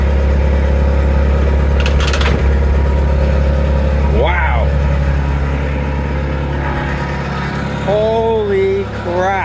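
An engine rumbles at a steady close idle, a deep continuous drone with a brief rattle early on, while people talk excitedly over it.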